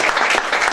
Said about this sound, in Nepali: हामी जोरदार ताली बजाइकन धन्यवाद दिन्छौँ।